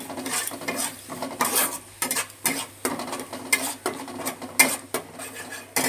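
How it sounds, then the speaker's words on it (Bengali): A spoon stirs chire potol in a pan just after cumin powder goes in, making repeated scraping and clattering strokes over a soft sizzle, at close range with no voices. "জিরে গুঁড়ো দিয়ে দিচ্ছি এইবার একটু নেড়ে নিচ্ছি"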